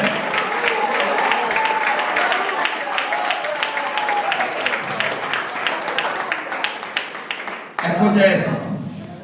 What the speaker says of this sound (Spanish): Aplaude para Él, iglesia.